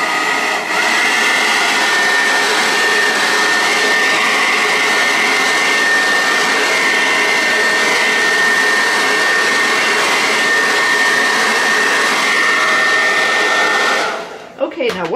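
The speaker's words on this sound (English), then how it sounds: "I'm going to put the hairdryer on it." A hair dryer blows steadily and loudly without a break for about fourteen seconds, drying paint on a rock, then cuts off abruptly near the end.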